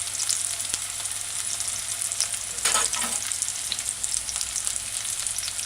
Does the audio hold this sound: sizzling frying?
yes